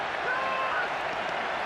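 A football stadium crowd reacts to a missed free kick in an A-League match, Wellington Phoenix against Western Sydney Wanderers, a dense, steady roar of many voices and clapping held at a constant level throughout.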